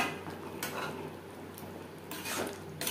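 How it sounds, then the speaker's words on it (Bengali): Boiled potatoes going into a pan of mutton liver curry, with a few clinks of utensil against metal and soft stirring scrapes in a quiet kitchen. "এই পর্যায়ে দিয়ে দেব আলু আমি সেদ্ধ করে নিয়েছি।"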